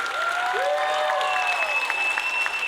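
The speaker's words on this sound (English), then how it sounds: "Let's get a big round of applause for Color Zero" Continuous, dense applause from a crowd at the Stairway to Stardom award show fills the whole stretch at an even level, with a few faint tonal sweeps riding on top.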